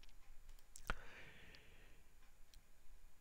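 A single sharp computer mouse click stands out, with a couple of fainter ticks afterward, all quiet against a low background hiss.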